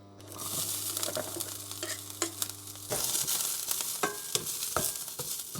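Scrambled eggs with broccoli cook in a pan, giving a close, steady hiss of frying broken by frequent scrapes and clinks of stirring, with no talking.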